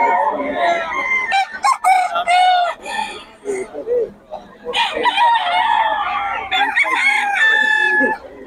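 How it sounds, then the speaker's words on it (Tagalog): Chickens in a Filipino gamefowl yard cluck loudly and close by while a rooster lets out repeated crows, with people talking now and then among the birds. "Boss Lando, magkano mga manok mo?"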